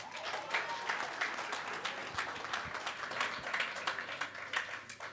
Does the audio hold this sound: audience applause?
yes